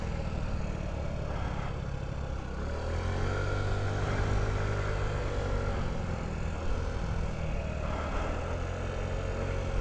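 A Honda Ruckus scooter's small engine runs steadily, a moderate continuous drone with slight swells in pitch and no talking.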